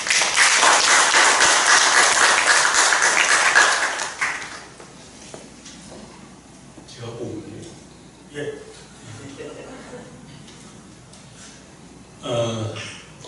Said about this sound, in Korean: 박수로 환영하십시오.